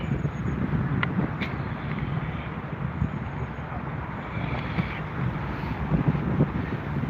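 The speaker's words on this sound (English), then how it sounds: "It's so windy" Steady wind gusts roar across the microphone at a riverside fishing spot, a constant broadband rush with occasional faint clicks and knocks and no speech.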